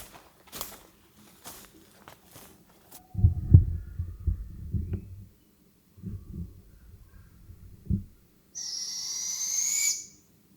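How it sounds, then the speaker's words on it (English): Owlets give shrill, rasping calls in woodland. A few short cries come first, then a longer, piercing screech near the end, all fairly faint against soft low rumbling. "we started hearing that same shrill calling noise coming from the woods over here"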